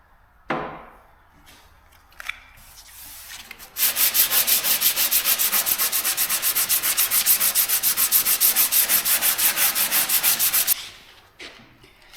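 A soft round foam sanding block works along a curved body line on a finned Cadillac custom hot rod, giving steady, rapid back-and-forth rasping strokes, loud and close, for about seven seconds after a few scattered knocks and handling sounds.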